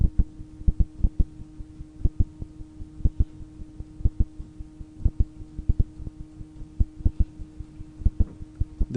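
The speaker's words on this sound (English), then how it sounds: "You can hear the nice music. It's an Amiga mod, of course." Amiga OS mod music plays inside a virtual machine: a thumping, slightly uneven drum beat over a steady sustained tone, played back alone with no voices.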